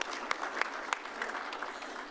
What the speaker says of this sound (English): which if anything deserves a round of applause is that.